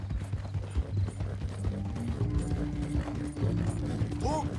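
A horse clip-clops along in the video game Red Dead Redemption 2, its hooves thudding in a steady rhythm alongside creaking tack and mechanical rattles, with a brief whinny near the end.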